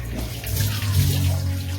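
Running water pours steadily while a dog is rinsed during a bath, a close, continuous splash and gush like a tub being filled.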